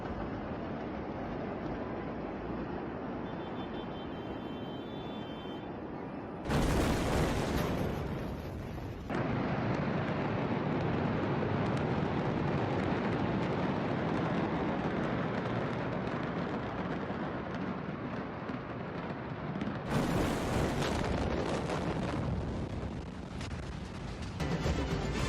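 A deep, sustained roar of a massive explosion rumbles continuously, with two sharper bursts of intensified blast noise breaking through. No voices.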